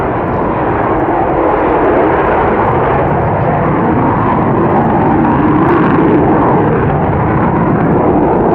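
An Avro Vulcan jet bomber roars overhead at an air display at Waddington, a loud, continuous engine rumble that fills the whole stretch with no break.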